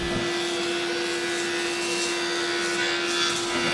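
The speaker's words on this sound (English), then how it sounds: "I can take one of these over to the jointer. I want to joint one face flat" Jointer running while a quarter-sawn timber neck blank is fed across it to flatten one face: a loud, steady motor drone with a constant hum and rushing cutter noise, close by and unbroken.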